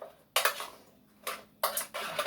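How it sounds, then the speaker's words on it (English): Brussels sprouts being tossed with maple syrup, balsamic vinegar and olive oil in a bowl, heard as three short bursts of clattering, scraping utensil-on-bowl sounds separated by quiet pauses. "take 1 tablespoon of maple syrup, pure maple syrup. And you're going to stir that all around."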